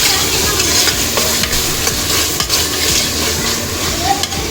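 Chopped onions and tomatoes frying for prawn gravy, stirred steadily in the pan, giving a loud, close, continuous sizzle with scraping strokes throughout and no talk.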